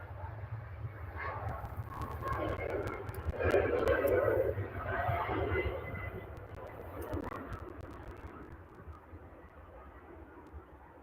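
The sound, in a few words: Ryanair airliner taxiing at Manchester Airport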